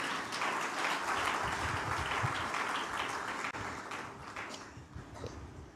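A church congregation at a spiritual renewal service applauds, a dense continuous clapping from a large crowd that slowly thins toward the end.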